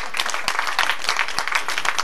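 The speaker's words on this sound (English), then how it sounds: "Give this guy a round of applause." An audience applauds a military veteran at a live comedy show, dense steady clapping from a crowd filling the room at moderate loudness, with no voices over it.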